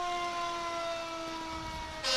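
A Burnsville ambulance in a fire muster parade sounds its emergency siren as a steady, loud tone with bright harmonics. A sharp higher burst rises at the end.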